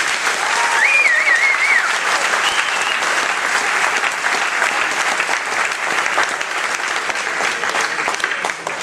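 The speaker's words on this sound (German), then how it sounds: "Applaus für beide Jungs." A crowd applauds both fighters after a passionate bout, loud sustained clapping filling the hall with a cheer rising near the start, then holding steady for several seconds.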